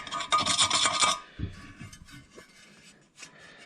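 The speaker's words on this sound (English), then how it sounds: "I just take an old drill bit and clean" Close, harsh rasping scrape of an old drill bit cleaning silicone from bolt holes on a 2006 Dodge Ram 1500 rear differential, a burst of rapid scratching followed by quieter intermittent scrapes and clicks.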